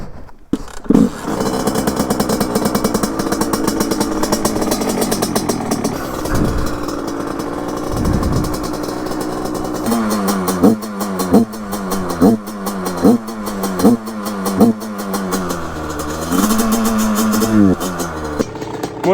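A 100cc 2Fast moped engine with a carburettor being tuned, running loud and close on the road, with a steady buzzing drone, then a series of sharp rhythmic revs rising and falling.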